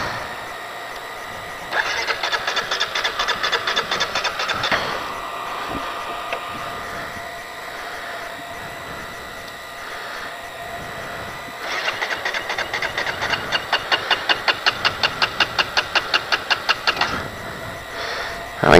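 A flooded motorbike engine cranked twice by the starter, each attempt a rapid rhythmic chugging burst lasting a few seconds that fails to catch, with a quieter pause between the tries.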